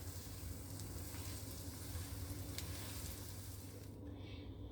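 Steady, continuous sizzling of an herb omelette frying in a hot pan, even and close throughout with no talking.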